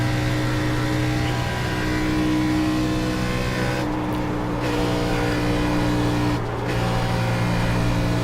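A race car's engine holds steady on throttle while lapping a Texas oval track, producing a loud, continuous, droning roar with a strong harmonic hum and only brief dips, heard up close from the cockpit with no talking.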